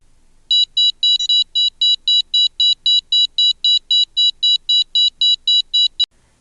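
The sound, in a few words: long regular beep from DOVE scenar device, dose achieved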